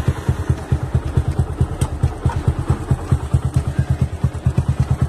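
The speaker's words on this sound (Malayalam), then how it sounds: "നമ്മൾ വണ്ടി എഞ്ചിൻ റണ്ണിങ്ങിൽ തന്നെയാണ് ഞാൻ ചെയ്യുന്നത്." A Yamaha motorcycle engine idles close by at a steady, rapid, evenly spaced thumping beat, loud and constant throughout with a light mechanical clatter over the top.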